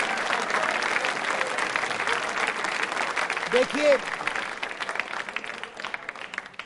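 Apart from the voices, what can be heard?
audience applause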